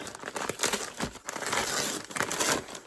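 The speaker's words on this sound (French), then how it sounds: "je déchire n'importe comment" Plastic packaging around baby clothes is torn open roughly during a reborn doll unboxing, with close, loud crinkling and ripping bursts in quick succession and no talking.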